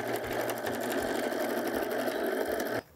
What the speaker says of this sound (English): you're going to stitch on the stitch line and then trim 1/4 inch